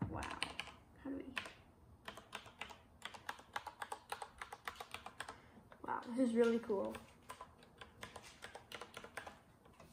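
Rapid clicking keystrokes from a Corsair K63 wireless keyboard with Cherry MX linear switches, close and steady, with a spoken voice breaking in at the start and a louder voice burst midway.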